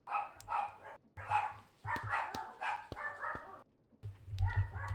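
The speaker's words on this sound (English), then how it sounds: "My dogs are very stupid." Dogs bark in quick, close bursts, several loud woofs and yips in an uneven rhythm with brief pauses and a whimper, over a low rumbling background.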